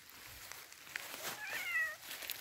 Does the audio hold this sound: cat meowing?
yes